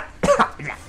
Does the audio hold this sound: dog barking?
no